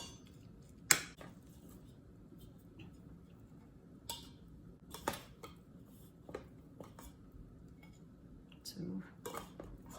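A spoon presses cooked rice into a dish for steamed chicken rice (nasi tim ayam), producing sparse, faint clinks and taps of metal on the bowl at irregular intervals in a quiet room.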